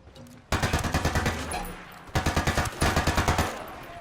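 AK rifle gunfire in the Ghost Recon Wildlands video game: two loud, close strings of rapid, evenly spaced shots, the first running about a second and a half and the second longer after a brief pause, with no talking.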